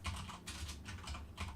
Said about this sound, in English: just mash my keyboard and get a load around keystrokes